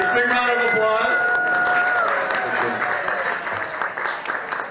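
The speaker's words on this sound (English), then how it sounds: "Big round of applause." Audience applause at the 2020 Groundhog Day breakfast in Woodstock, Illinois, a dense burst of clapping and crowd noise that fades gradually, mixed with a voice and lingering musical tones at the start.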